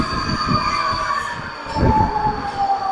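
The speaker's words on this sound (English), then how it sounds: "Experiencing the Budapest metro line for the first time." A Budapest metro train rumbling along underground, steady and loud, with a whining motor tone and rhythmic wheel clatter throughout.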